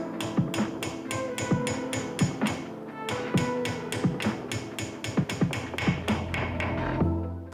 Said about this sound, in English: you're gonna have to hammer them back through